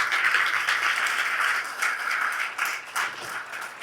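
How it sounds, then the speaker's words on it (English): Applause from a leadership summit audience, a burst of clapping that starts full and gradually thins and tapers over a few seconds, with no talk over it. "Oh man, give her a round of applause."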